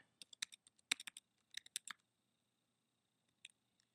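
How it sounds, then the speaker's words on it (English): Fingers typing a password on a computer keyboard during a GoDaddy domain account signup, a quiet, close run of light clicking keystrokes in quick uneven bursts, then a pause and a couple of isolated taps, with no voices. "Choose a password, and then type your password again to confirm it."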